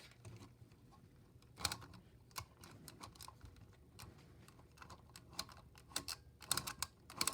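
Plastic lever on a Transformers Earthrise War for Cybertron Voyager class Quintesson Judge toy pulled aside to rotate its faces, giving scattered quiet clicks and ratcheting ticks with a few sharper snaps near the end.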